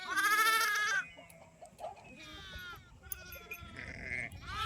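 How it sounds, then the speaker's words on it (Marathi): Several sheep bleat close by, a loud burst at the start and more calls following, with quieter rustling and distant bleats between. "मेंढ्या बी आल्या"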